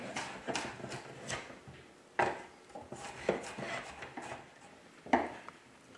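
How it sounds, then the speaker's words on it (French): Knife cutting potatoes into cubes for patatas bravas, quiet, irregular chops and taps on a board with short pauses in between, heard near and faint. "moi je vais vous couper les pommes de terre"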